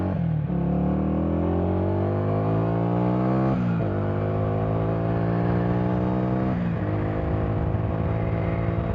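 A motorcycle accelerates hard through three rising gear pulls, each engine whine climbing in pitch before a brief dip at the shift, loud and close as it speeds up ahead of a braking test.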